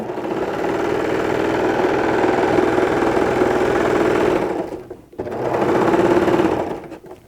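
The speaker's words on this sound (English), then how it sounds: "I'm coming right on around and keep on sewing." A sewing machine runs steadily as it stitches a scrub cap, its close, even whirring broken by one brief pause about two-thirds of the way through before it resumes.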